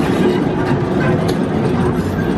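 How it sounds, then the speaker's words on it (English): A small, nippy theme-park train at Europa Park rolls through the Spanish-themed area, giving a steady, close rumble of wheels and engine that holds at an even level throughout, with no distinct horn or break. "Such a nippy little train, takes you all down little passages throughout the park."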